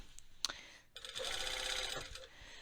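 A sewing machine sews along a garment's front neckline in one quiet, steady burst of about a second, with faint handling clicks before and after.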